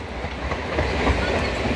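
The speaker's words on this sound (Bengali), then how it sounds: "ট্রেন ঢোকে" A train enters a station, giving a steady, close rumble of rolling wagons and wheels on the rails that swells slightly midway.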